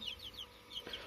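Chickens cluck in an outdoor hutch, a string of short, fairly faint calls repeating at an even pace with no talking.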